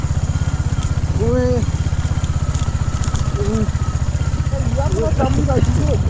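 A motorcycle engine chugs steadily at low revs with a rapid pulsing throb while engine braking downhill on a rough off-road track in Nepal's Lower Mustang, voices faint over the drone.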